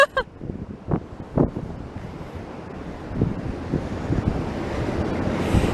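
The Wharemuku stream, swollen into a river-like torrent after heavy rain near Raumati Beach, rushes in a steady broadband roar outdoors, with wind buffeting the microphone and a few soft thumps.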